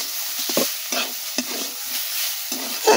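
Sliced banana stem fries in oil while a spatula stirs and scrapes the pan in irregular strokes over a steady sizzle, heard close and alone.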